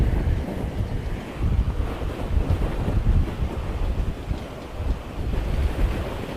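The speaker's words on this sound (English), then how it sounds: "How's that wind over your way, Tully?" Strong wind buffeting a microphone outdoors at Christchurch Airport, a loud continuous roar that swells and eases in gusts, with no voices.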